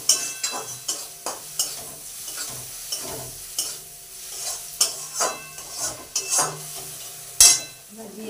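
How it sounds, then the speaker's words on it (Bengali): Ground coriander and cumin get stirred in a frying pan, with a soft sizzle under a series of irregular scraping strokes and sharp utensil clicks against the metal. "দেওয়ার পরে আবার মশলাগুলো ভালো করে নেড়ে চেড়ে নেব"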